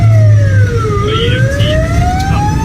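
An ambulance siren on a narrow Norwegian road wails with a rising and falling sweep, loud and close, over the rumble of traffic and a running engine.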